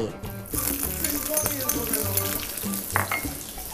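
Onion is stir-fried in a little hot oil in a pan for a crab curry omelette, with a steady sizzle and scraping stirs, and a background voice or music adding tonal traces.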